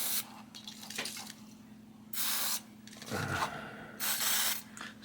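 WD-40 sprays in short hissing bursts into a bicycle rear derailleur mounting pivot, three separate bursts close up over a low steady background hum, with faint tapping between them.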